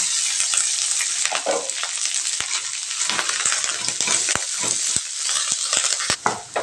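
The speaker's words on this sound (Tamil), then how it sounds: "நல்லா மிக்ஸ் பண்ணி விட்டுர்லாங்க" Lemon rice is stirred in a pan, with a soft sizzle beneath repeated scraping clicks of a spoon against metal, close and fairly loud throughout.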